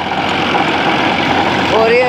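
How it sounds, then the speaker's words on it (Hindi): A Massey Ferguson 241 tractor engine runs steadily throughout, a continuous low rumble close by with someone talking over it. "ट्रैक्टर भी देख लीजिए आप, मेस्सी है 241"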